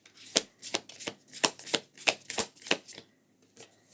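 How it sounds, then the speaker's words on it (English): A deck of playing cards being shuffled with a slightly stiff texture, giving about ten crisp riffling bursts in a steady rhythm, close and clear, then tapering off into quiet with no talking. "This deck is a little bit hard to shuffle."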